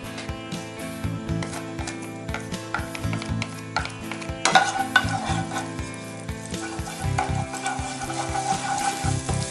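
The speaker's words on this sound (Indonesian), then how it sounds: "Pertama kita menumis bawang putih." Garlic sautéing and being stirred in a pan, a steady sizzle of frying with repeated scraping and stirring strokes throughout, growing a little busier toward the end, with no talking.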